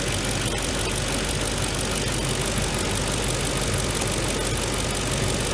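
A Mercedes M113 V8 engine running during an on-off throttle test for the EGR valve, giving a loud, steady, dense roar that fills the whole clip with no talking.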